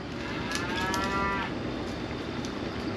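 Cattle out in open Nebraska country let out a long, drawn-out moo at moderate distance over a steady backdrop of wind and outdoor hiss.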